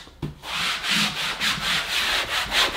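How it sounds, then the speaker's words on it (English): Bissell Crosswave cordless wet and dry multi-surface cleaner scrubbing a floor, giving a steady rhythmic swishing with regular back-and-forth strokes about twice a second, close and fairly loud, with no talking. "Really rub and scrub."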